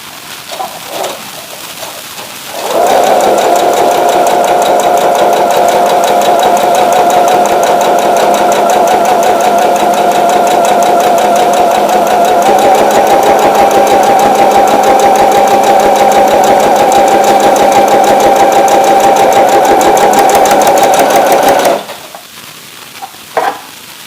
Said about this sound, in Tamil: ஸோ வந்து நம்ம ஸ்டிச் போட ஆரம்பிக்கலாம்.